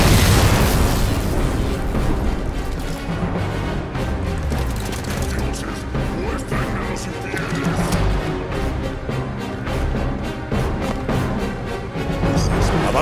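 Explosions and combat in the video game Halo 5 Guardians, a dense stretch of loud booms, bursts and rumbling effects that continue throughout with little letup.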